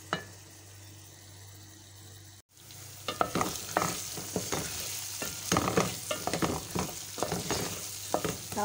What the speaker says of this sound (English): And now we will give it a good mix.